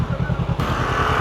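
A motorcycle engine runs close by with a brief, loud, pulsing putter.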